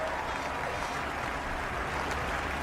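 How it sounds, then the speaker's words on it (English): Crowd at the British Grand Prix applauding and cheering a driver, a dense steady wash of clapping and noise, loud and unbroken throughout. "Big round of applause for this man"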